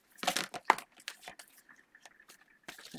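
Crisp rustling and snapping bursts of tarot cards being shuffled, irregular and close, with quieter riffling flutters between louder slaps.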